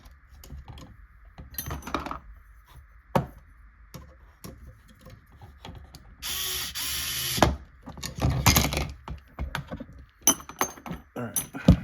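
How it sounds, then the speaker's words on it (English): Two M3 lock nuts tightened down on a kit build, giving close, intermittent metallic clicks and scraping taps of tool and nut, with a brief louder burst of rattling partway through. "we're going to take 2 M3 lock nuts and tighten all this down."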